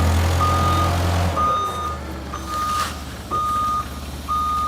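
Forklift reversing with its backup beeper: a loud, regular series of long steady beeps, about five in a row, over the low hum of the running engine.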